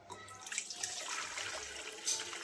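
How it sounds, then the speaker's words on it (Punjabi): Hot water runs from a tap into a bucket being readied for soaking green peas, a steady close splashing rush that swells briefly near the end. "ਇੱਥੇ ਆਪਾਂ ਲਵਾਂਗੇ ਗਰਮ ਪਾਣੀ ਜੀ"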